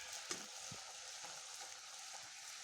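Luchi frying in hot oil, a faint, steady bubbling sizzle with a couple of soft taps from a utensil, quiet and continuous with no voices.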